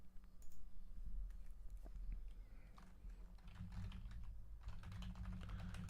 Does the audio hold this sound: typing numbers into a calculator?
yes